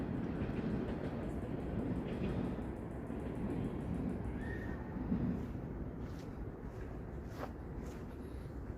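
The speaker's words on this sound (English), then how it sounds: "Okay, I can hear a subway." A subway train rumbles past at a distance in a Toronto park on a hot evening, a continuous broad roar with faint squeals and clicks over outdoor ambience.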